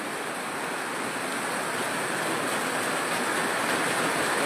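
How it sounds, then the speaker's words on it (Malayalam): Heavy rain pouring down in Attingal, Kerala, with wind under dark overcast skies, a dense steady roar with no breaks and no voices. "ഒരു 15 മിനിറ്റായി ആറ്റിങ്ങൽ മഴ തുടങ്ങിയിട്ട്, കനത്ത മഴ."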